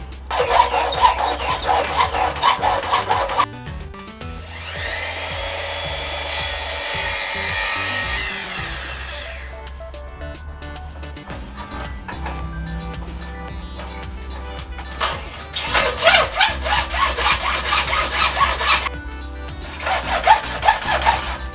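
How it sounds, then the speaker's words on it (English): A handsaw cuts through a section of lightsaber prop blade material in several steady bursts of back-and-forth rasping strokes, close and fairly loud, with pauses between runs. "Might do this with a handsaw."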